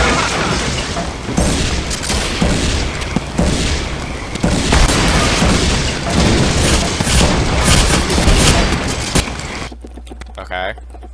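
Dense, loud gunfire and booming blasts in the shooter game Counter-Strike: Condition Zero Deleted Scenes, continuous and overlapping before cutting to a brief hum at the end.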